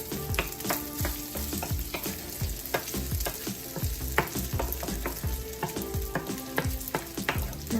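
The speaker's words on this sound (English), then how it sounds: "I'm just gonna kind of give this another stir, break up any of those big clumps of rice" Fried rice is stirred in a hot pan as a spatula breaks up clumps. Rhythmic scrapes and knocks land over a continuous close sizzle, steady and fairly loud throughout, with no talking.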